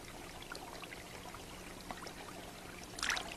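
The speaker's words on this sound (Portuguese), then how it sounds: "tudo o que se consegue ver do mergulho de um ornitorrinco em seu ambiente é a água salpicada que esse esquivo animal levanta" Faint water trickles and laps softly where an elusive platypus dives, followed near the end by a short, brighter splash.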